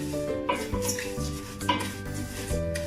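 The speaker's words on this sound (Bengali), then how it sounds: "আর দিয়ে দিচ্ছি লাচ্ছা সেমাইগুলো, এখন ভেজে নিচ্ছি ভালো করে।" Laccha semai vermicelli frying in a pan over low heat, with repeated metallic scrapes and clinks of a spoon stirring against the pan above a soft, continuous sizzle, heard close and without talk.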